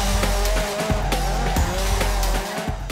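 Race car drifting with loud, sustained tire squeal and a roaring engine, the screech wavering continuously over close, steady motor noise for the whole stretch.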